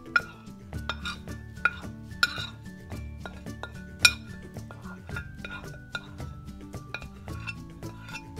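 Garlic-ginger paste and spices mixed in a bowl for tandoori chicken, a spoon clinking and scraping against the bowl in repeated sharp ticks over a faint ringing background, close and unaccompanied by speech.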